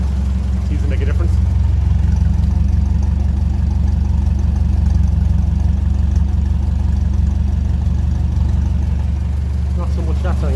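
1957 Ferguson 35 TVO tractor engine running at a steady idle, a continuous low, heavy rumble close by, with a few faint clicks over it.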